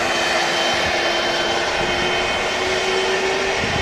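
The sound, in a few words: Turkish Airlines Airbus A330 jet engines taxiing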